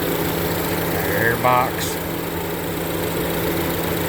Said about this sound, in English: Fan is working.